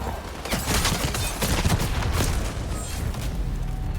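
Rapid gunfire rattles continuously in the video game Highguard, dense overlapping shots with heavy low thumps, loud and close.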